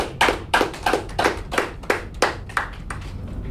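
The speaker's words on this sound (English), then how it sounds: "A big round of applause for Abhishek." A small group claps for a speaker at a Toastmasters meeting: a dozen or so distinct, close hand claps in loose rhythm, sharp and separate, thinning out after about three seconds.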